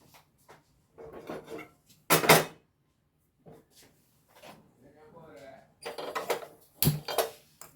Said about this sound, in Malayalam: ഞാനൊരു പാൻ വയ്ക്കുന്നുണ്ടേ